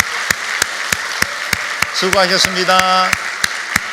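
A church congregation gives encouraging applause for the worship team, choir and teachers at a Sunday service, a steady wash of clapping with a few sharp claps standing out. Someone speaks briefly over it partway through.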